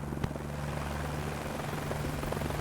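Helicopter heard from inside: a steady loud engine drone with the rapid thumping beat of the rotor, constant throughout.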